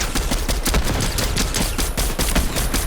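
Rapid automatic gunfire crackles in dense, continuous bursts, loud and close, like a firefight in a shooter game.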